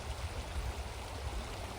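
A small urban creek with low water flows in a soft, continuous rush and gurgle, fairly quiet and steady with no voices.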